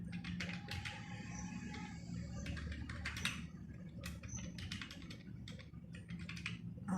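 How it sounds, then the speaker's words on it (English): Rapid, steady clicking of a computer keyboard goes on throughout, close and clear over a low background hum, with faint chirps in the distance and no speech. "Let me type."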